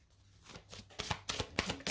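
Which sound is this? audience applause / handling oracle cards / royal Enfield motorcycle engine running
handling oracle cards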